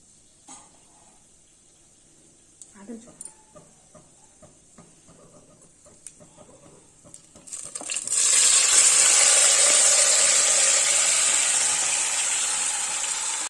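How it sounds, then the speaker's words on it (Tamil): Quiet scattered clicks and small taps give way to a sudden loud, sustained sizzle as chicken masala is tipped into a pan of cardamom, cloves and star anise, the frying hiss staying strong and close to the end. "4 ஏலக்காய், 4 கிராம்பு, ஒரு ஸ்டார் அனீஸ் இதெல்லாம் சேர்த்துக்கிட்டேன். இதை லைட்டாக வதக்கிட்டு இந்த சிக்கன் மசாலாவை அப்படியே உளுத்தி போட்டுற வேண்டியதான்"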